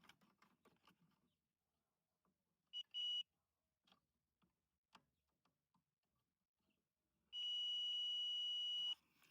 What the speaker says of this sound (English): whenever I connect these two leads together, you'll hear a beeping